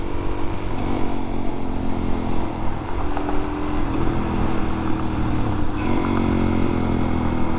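A 2022 Suzuki DRZ400SM motorcycle engine drones steadily and loudly throughout while being ridden, with a continuous close rumble and slight shifts in pitch, no talking.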